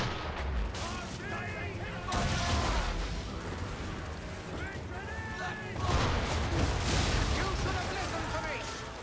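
Ship cannons fire chain shot during a sea chase in Assassin's Creed 3: booming volleys burst out around two seconds and again near six seconds, leaving rolling rumble, creaks and faint game voices between the blasts.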